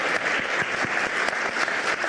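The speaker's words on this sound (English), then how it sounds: "Give a round of applause." A conference crowd at a social engineering improv session gives a short, steady burst of applause, dense clapping throughout with no gaps.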